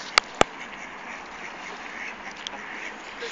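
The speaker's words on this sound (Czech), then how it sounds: "kachny se nasydaly, už letí pryč" Ducks give two sharp, close quacks near the start, then a faint call follows over a steady outdoor background, with no clear wingbeats.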